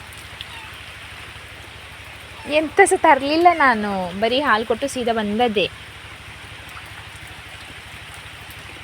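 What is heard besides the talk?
rain falling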